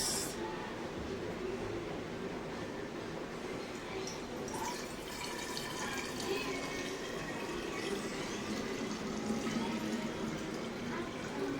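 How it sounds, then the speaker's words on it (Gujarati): Lemon juice is poured into a glass bottle for storage at home, a continuous gurgling fill with small splashes and drips that rises slightly in pitch as the bottle fills, with no talk. "હવે આપણે ભરશું લીંબુ લીંબુનો રસ"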